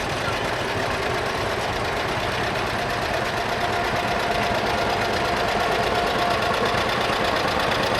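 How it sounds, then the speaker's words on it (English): A John Deere Model B two-cylinder tractor engine runs steadily throughout with a continuous mechanical rattle and knock, loud and close, with no pauses. "I like to hear the John Deere run if they got the rattle to it"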